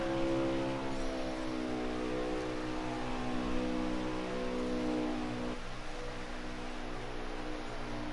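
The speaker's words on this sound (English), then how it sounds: "Hear that engine roar." A racing truck engine holds a loud, sustained drone at high revs throughout, with a strong tonal whine and no voices over it.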